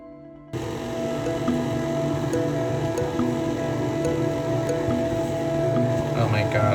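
A stand mixer with a dough hook kneads rye bread dough in a home kitchen. It gives a steady, fairly loud motor hum with faint ticking, starts abruptly and runs without a break.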